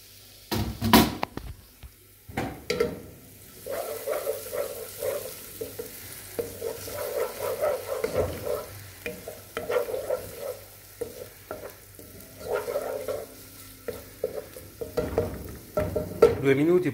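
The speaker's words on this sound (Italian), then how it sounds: "andiamo con la nostra cipolla a soffriggere" Onion sautés in a pan, its low sizzle under repeated stirring, scraping and utensil knocks, with a few sharper clatters at the start and end; nearby, uneven and without speech.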